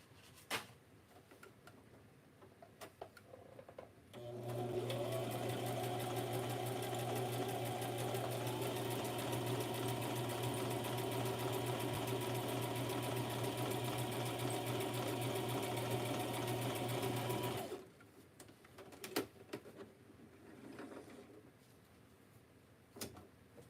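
Sewing machine stitching through a junk journal page, a steady rapid mechanical run of about thirteen seconds, framed by quiet handling clicks before and after.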